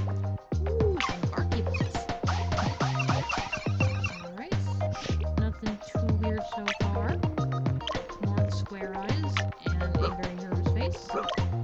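Small dogs in the video game Wobbledogs bark and yip in quick, bouncy, repeated bursts that are loud and close, with brief whimpers between them.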